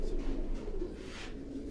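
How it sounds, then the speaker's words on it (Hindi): Teddy pigeons coo softly from a rooftop cage, a faint low burbling that repeats in short phrases over a quiet background. "ये दोनों भी टेडी कबूतरों में से हैं।"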